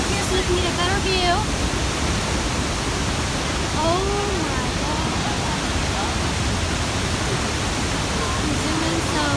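A massive waterfall roars as a loud, continuous, wide wash of rushing water, with excited voices exclaiming over it.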